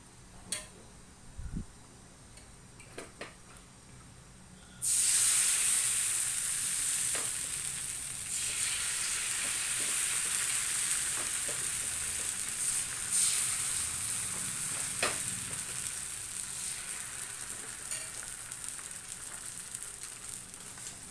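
Dosa batter for a neer masala dosa poured onto an oiled pan bursts into a loud steady sizzle after a few quiet knocks, the frying hiss holding and slowly easing.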